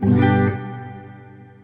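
An electric guitar chord through a Carl Martin Headroom Mini pedal rings out loud, then decays into a long, shimmering reverb tail that fades slowly.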